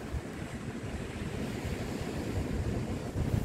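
Sea waves surge and wash steadily on a beach at night by Clacton pier, with gusting wind buffeting the microphone in a continuous, fairly loud roar.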